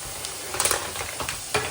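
Onion and masala sizzle in hot oil for a tempering while being stirred, with a steady close frying hiss and a few scraping stirs rising above it.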